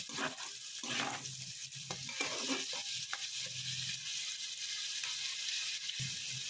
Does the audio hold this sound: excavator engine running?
no